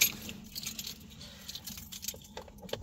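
A bunch of keys jangles in short metallic bursts, loudest at the very start and then in softer scattered clinks, heard close up with no talking.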